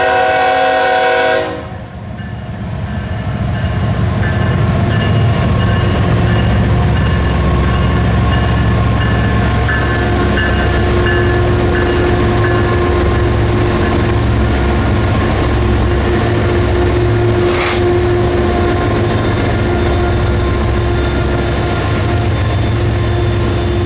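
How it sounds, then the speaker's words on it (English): A Florida East Coast Railway freight train led by four locomotives, CSX units among them, doubles out of the New Smyrna yard: a loud, steady diesel engine drone with a short horn blast at the start and rumbling cars rolling past up close. "the quartet of engines started doubling out their train"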